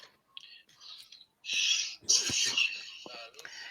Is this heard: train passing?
no